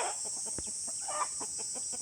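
Chickens cluck in short, scattered calls at a rural countryside home in the evening, set against a steady, high insect drone.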